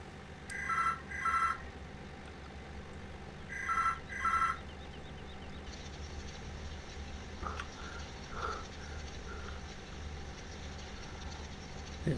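A telephone bell rings in two double-ring bursts, moderately loud, against steady engine and machinery noise from a hay-making setting with balers; no talk.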